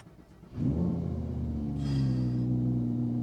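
A sports car engine cranks and fires up with a sudden roar, then settles into a deep, steady rumbling idle with a brief rev partway through.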